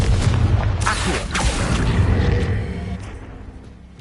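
A Confringo blasting spell explodes in the Hogwarts Legacy video game with a loud, deep boom and crackling burst that rumbles close by and fades over a few seconds.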